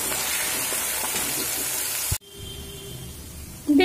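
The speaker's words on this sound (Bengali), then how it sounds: "দিয়ে লো ফ্লেম করে আলুটা ভেজে নেব" Potatoes frying on a low flame with salt and turmeric, a steady close sizzle that cuts off abruptly partway, leaving quiet with a faint clatter near the end.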